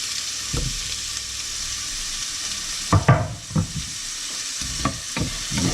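Plum tomatoes fry in a pan with a steady soft sizzle while a utensil stirs them, giving several scraping knocks against the pan in the second half, nearby and with no talking.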